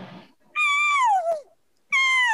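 A hunter imitates an elk call with the lips, producing a cat-like, meowing tone: two loud, clear, wavering cries, the first sliding downward, separated by a short silence after a brief rustle.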